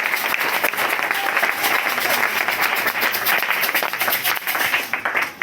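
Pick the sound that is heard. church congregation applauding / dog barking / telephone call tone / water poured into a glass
church congregation applauding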